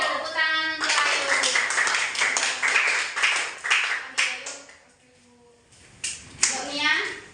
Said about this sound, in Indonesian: Iya, tepuk tangan untuk Ayu.